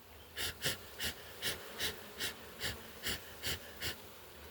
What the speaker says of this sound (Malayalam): ഞാൻ പുകടിക്കാതെ ഊതുന്നുണ്ട്.